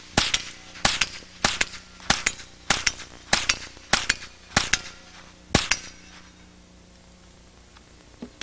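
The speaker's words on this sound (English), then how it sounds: "Fast and fancy rifle shooting." A Ruger 10/22 rifle fired fast in action match shooting: about nine sharp, crisp cracks in a quick, slightly uneven rhythm, then a short quiet tail.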